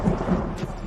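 A brief burst of thunderstorm sound effect, a dense, loud rumble with steady rain hiss throughout and no voices.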